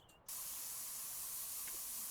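A spray gun paints a car orange in Spray Paint Simulator. A steady, loud hiss starts abruptly and runs without a break, with no voices over it.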